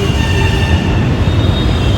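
A Hyderabad metro train at Ameerpet station rumbles loudly and steadily up close, a broad low roar of wheels and carriage with a faint high whine above it.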